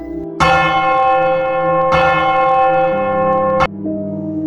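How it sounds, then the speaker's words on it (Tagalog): A large village church bell rings loudly, three strong strikes with long resonant hum between them, then a quieter tone lingering. "Dumagundong ang tunog ng kampana mula sa baryo."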